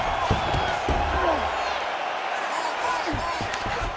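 A crowd in a UFC 5 video game fight cheers and roars steadily throughout, with a few sharp thuds breaking through, while an announcer's voice runs over the noise.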